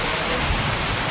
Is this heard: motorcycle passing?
no